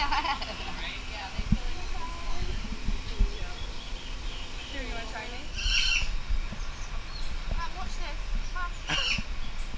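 A young bird at Discovery Cove, Florida, gives repeated high, insistent squawking calls for food, close by, mixed with rustling and occasional knocks.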